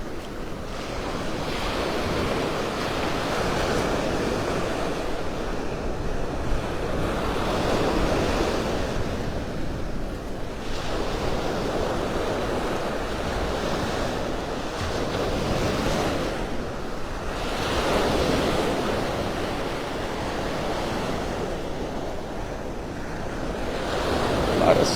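Ocean surf breaks on Vanderbilt Beach in North Naples, Florida, in slow rolling swells that rise and fade roughly every five seconds, with a steady wash and some wind buffeting the microphone.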